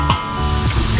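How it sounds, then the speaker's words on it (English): Food sizzles loudly and steadily in a new camping pan over a campfire, with a close, continuous frying hiss. "Sizzling away."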